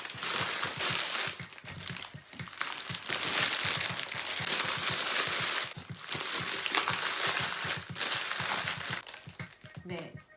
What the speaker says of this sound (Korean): 비닐을 넣어서 플로럴 폼을 고정할게요.